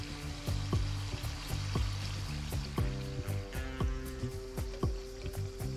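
Tikhat puri deep frying in hot oil makes a continuous bubbling sizzle, with recurring tonal sounds and soft clicks layered over it.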